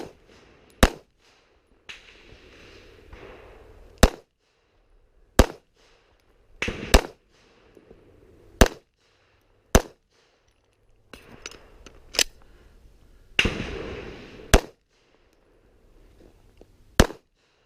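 Pistol shots at an IDPA shooting match stage at an outdoor club range, about ten sharp loud cracks spaced irregularly over time with rustling movement and brief echoes between them, no talk.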